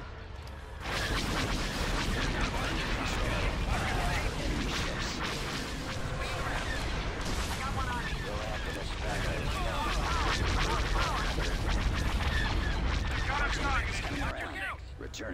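Starship weapons in a Star Wars space battle game fire in rapid, overlapping blasts and booms, a dense continuous barrage with someone talking intermittently over it.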